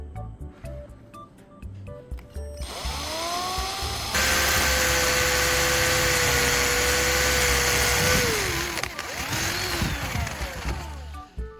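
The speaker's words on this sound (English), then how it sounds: "let's drill a hole in the copper tube, right where the tire valve is" A small power drill whirs up to a high steady whine, bites into a copper tube and strains for several seconds, then winds down, close and loud.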